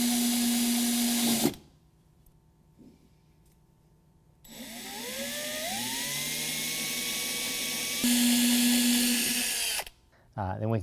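Power drill boring holes in a car hood for RK Sport Ram Air hood fasteners, loud steady whine that stops and restarts, rising in pitch as it spins up, with a pause and quiet handling between bursts.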